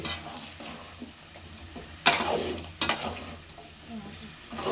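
Chicken pieces and a medium tomato cook in a pan on low flame, a soft sizzle broken by two sharp scraping stirs of a spoon, close and alone.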